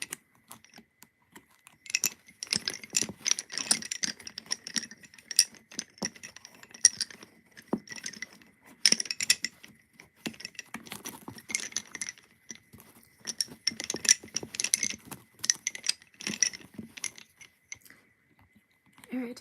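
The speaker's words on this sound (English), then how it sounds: "These are bobbins, and I'm making lace." Wooden bobbins clicking and clinking together in quick irregular bursts while bobbin lace is worked into a rose pattern, fairly close and light, with brief pauses between runs.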